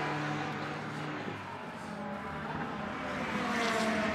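Race car engines drone continuously from several directions at a distance during the Hankook 12H endurance race at Zandvoort circuit, a steady blended roar with occasional louder passes and tire noise.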